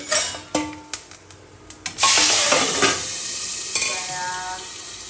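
Vegetables stir in a pan with several sharp spoon knocks on the metal before a loud sizzle bursts up and carries on for a few seconds as they are tempered, close by and without speech.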